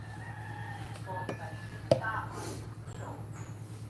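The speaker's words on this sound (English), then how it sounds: "I still have a chicken left here." Rooster crowing outdoors at a small store in the Philippines, a clear mid-distance cock-a-doodle-doo with a few clucks over a low steady background hum.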